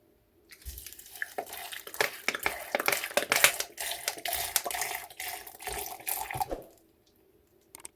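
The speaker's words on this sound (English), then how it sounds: "finally I'm going to add some water and cover and blend for 30 to 40 seconds" Water being poured into a blender jar over fenugreek smoothie ingredients, a close, busy splashing stream for about six seconds that stops abruptly, followed by near silence.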